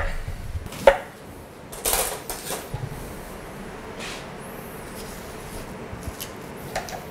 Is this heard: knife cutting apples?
yes